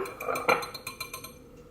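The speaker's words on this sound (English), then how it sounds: "using your whisk or fork, just whisking them until the yolks are fully incorporated" Quick metallic taps of a whisk or fork beating eggs in a bowl, a rhythmic run of close clinks that trails off after a second or so.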